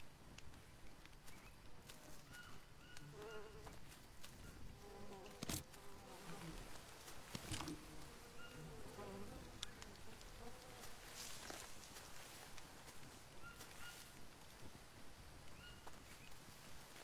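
Insects buzz steadily in a video game, a dense droning hum near the bee spawn, joined by scattered clicks and a couple of sharp knocks, with no voices.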